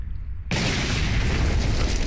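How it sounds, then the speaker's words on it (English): A huge, loud explosion in the zombie survival game Cataclysm: Dark Days Ahead erupts suddenly and roars on as a dense, sustained rumbling boom. "we hear a huge explosion, and a bloated zombie emerges from deep water"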